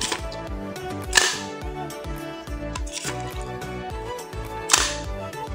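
A WE M4-CQB gas airsoft rifle fires three sharp cracks, spaced a couple of seconds apart, over a backdrop of music, with no talking.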